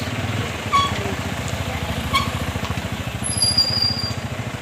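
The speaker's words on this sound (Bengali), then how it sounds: "সূর্যের বাস আসছে" A bus engine chugs and idles as it pulls in, a close, rhythmic low throb pulsing evenly throughout, with faint higher squeaks and a brief whistle-like tone late on, no talk.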